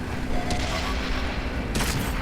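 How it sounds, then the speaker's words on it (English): A Sherman tank cannon fires and hits an enemy tank's engine in World of Tanks. Two sharp blasts crack over a dense, loud battle rumble in quick succession. "Got his engine in the first shot."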